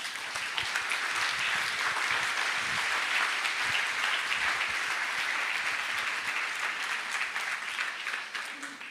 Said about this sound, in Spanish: ¿Le puede dar un aplauso a nuestro amado Dios?